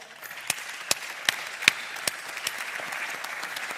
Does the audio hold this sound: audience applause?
yes